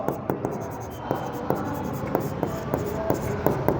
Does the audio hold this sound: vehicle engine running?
no